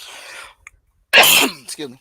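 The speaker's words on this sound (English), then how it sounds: "It was a cough." A single sharp cough, close and loud, followed by someone saying a few quiet words.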